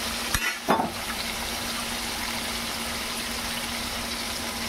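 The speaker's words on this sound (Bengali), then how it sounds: "পটলগুলোকে লাল লাল করে ভেজে নেব" Pointed gourd pieces fry in oil in a kadai with a steady, even sizzle, broken near the start by a couple of sharp utensil clanks, heard up close without speech.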